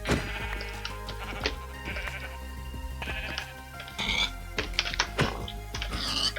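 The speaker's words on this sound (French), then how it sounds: "je vais aller tuer des moutons pour me reprendre de la laine" Sheep in the Minecraft video game bleating repeatedly in short, loud bursts, with clicking keyboard or mouse sounds and game thuds in between.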